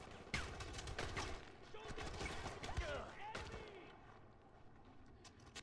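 Dense gunfire and bursts in the shooter game Far Cry 4, with sharp shots and rattling fusillades close by, thick and continuous for several seconds while a voice talks over the fighting.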